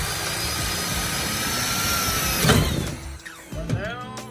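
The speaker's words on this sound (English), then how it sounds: "I'm going to drill a nice big hole through there" A power drill boring a big hole through a metal clip on an Audi Quattro S1 build, a steady close whine that bogs and strains near the end, then winds down and spins briefly again.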